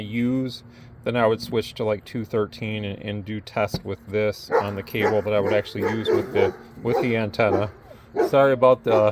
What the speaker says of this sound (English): dogs here. They like to bark.